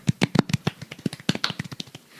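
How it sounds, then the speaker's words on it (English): Podcast hosts clapping close to the microphone, a quick run of about twenty sharp, distinct hand claps in uneven rhythm, loud and dry with no talking. "a round of applause around the microphone"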